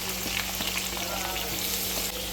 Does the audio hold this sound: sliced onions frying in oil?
yes